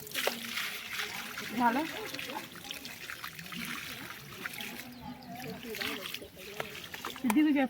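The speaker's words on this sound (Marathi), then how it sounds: "हे पाणी काढताय ते धुणार असं" Water trickles and splashes as it is poured for washing during Gauri puja preparations in Konkan, with scraping and clattering around it and people talking in the background.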